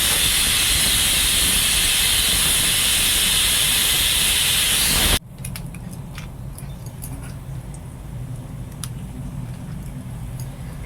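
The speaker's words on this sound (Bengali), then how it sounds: "এই পাশে আমি লঙ্কা পেঁয়াজটা ভেজে নেব" Chillies and onions frying in a pan on a village kitchen stove give a loud, dense steady sizzle that cuts off abruptly midway, leaving a quieter crackling hiss with occasional pops.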